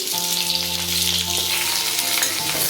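Long potato strips and chopped onion frying in a pan, a steady close sizzle that holds throughout with a constant hum of kitchen background beneath it.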